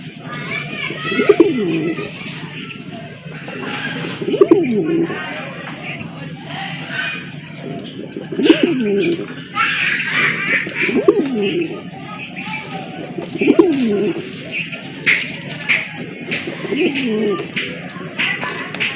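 Pigeons coo repeatedly in low, throaty phrases every few seconds, with a busy background murmur and a steady hiss throughout, at a sale of pigeons including a red Boro Payra.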